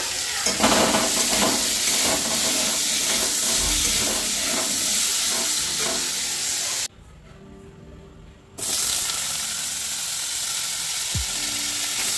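Potato curry fries in a pan with a loud, continuous sizzle and hiss, marked by rhythmic scraping strokes of stirring. Midway the sound drops out for nearly two seconds, then the frying resumes at full strength.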